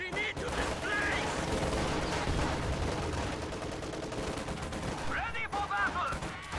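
Dense video-game gunfire rattles on continuously, layered shots and bursts packed together at steady high loudness, with shouted game voice callouts rising through the battle din.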